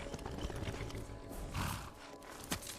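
A horse in Skyrim gives a short burst of snorting and hoof sounds, fairly close, over a steady game background.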